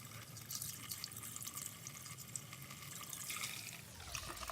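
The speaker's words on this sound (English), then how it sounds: "we're going to pour some in right in the radiator cap." Prestone radiator flush cleaner poured into the radiator cap of a 1993 Mitsubishi 3000GT SL, a faint steady gurgling trickle of liquid running continuously, quiet and close.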